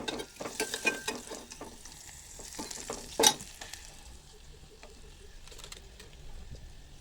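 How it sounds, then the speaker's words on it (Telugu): Spices for buttermilk rasam temper in hot oil, giving a faint, quiet sizzle with scattered light clicks and crackles and one sharper pop in the middle. "ఇక్కడ మజ్జిగ చారుకి తాలింపు కూడా వేగిపోతుంది."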